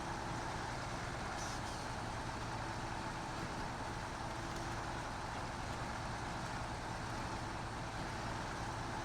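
Heavy off-road truck grinding downhill through Scandinavian terrain in the SnowRunner game, a steady loud engine drone with air-brake hiss and rumble throughout, no talk.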